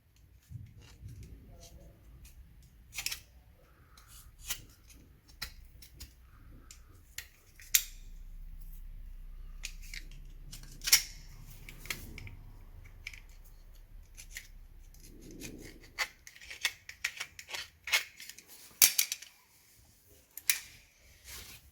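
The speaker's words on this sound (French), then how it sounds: "couper avec le cutter les bouts qui dépassent du carter" Utility knife slicing away excess homemade gasket material along a motorcycle engine casing, a run of short crisp cutting and scraping strokes, close and fairly quiet, with scattered clicks and rubbing between cuts.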